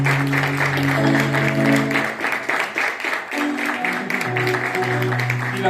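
A church congregation claps in praise during a sermon service, steady applause over sustained keyboard chords that shift pitch partway through, the clapping staying strong throughout.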